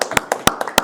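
A round of applause for a guest at a high school show, a handful of sharp, close claps in an uneven rhythm, like a small group or a few people clapping briefly.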